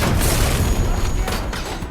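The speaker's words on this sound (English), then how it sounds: "Seconds later, the building erupts in a thunderous explosion." Thunderous building explosion in an action film, a loud, dense, rumbling blast with crackling debris that fills the whole moment, close and overwhelming with no voices.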